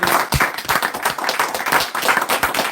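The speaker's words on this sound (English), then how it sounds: "Hand claps, man." Dense, steady hand clapping from a small group, many overlapping claps in quick succession with a cheerful whoop-like energy, close and fairly loud throughout.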